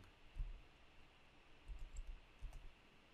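Soft, quiet clicks of typing on a computer keyboard, in a few short bursts of keystrokes separated by pauses, with no talking.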